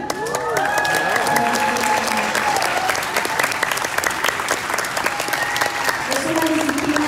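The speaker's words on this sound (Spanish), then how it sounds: "quiero que todas las personas que están aquí den un fuerte aplauso al grupo de músicos que tenemos" Strong audience applause and some cheering for a band of musicians at an Indie Show anniversary concert, dense and sustained clapping throughout, with a few voices and lingering musical tones underneath.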